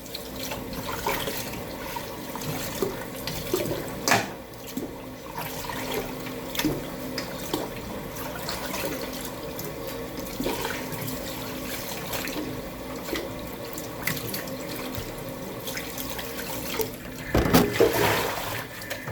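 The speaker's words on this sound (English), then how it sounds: "So my meat is all done washing." Running water splashes steadily with a few louder sloshes and clunks as goat meat is washed in a bowl under a flowing tap.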